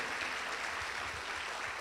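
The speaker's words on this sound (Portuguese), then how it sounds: "Dá um aplauso ao Senhor por isso" A church congregation claps for the Lord during a sermon, a steady, dense wash of applause that stays loud and even throughout with no pauses.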